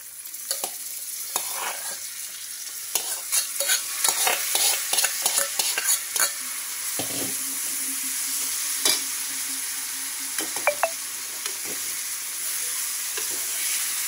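Boiled val bean pods fry in a pan with salt and chopped coriander, giving a constant sizzle broken by repeated close scrapes and knocks of a stirring utensil, with no voices.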